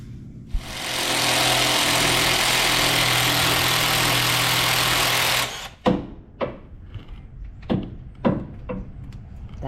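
A V8 engine in a 1969 Chevrolet Camaro roars loud and steady for about five seconds, then cuts off. A series of sharp metallic clanks and knocks follows.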